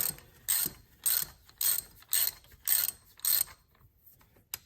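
Ratchet wrench loosening an old spark plug on a 2013 Dodge Journey 3.6L V6, a sequence of six close, crisp clicking bursts at an even rhythm, followed by near-silence and one last short click.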